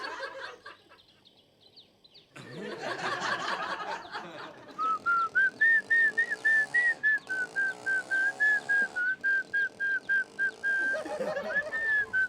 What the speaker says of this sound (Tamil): நீங்க விசில் அடிக்கிறதா இருந்தா என்ன மட்டும் பார்த்து விசில் அடிங்க